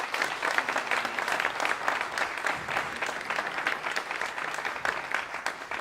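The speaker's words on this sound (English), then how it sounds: "So let's all give our panelists a round of applause." Sustained applause from a large audience, steady and full throughout with no break in the clapping.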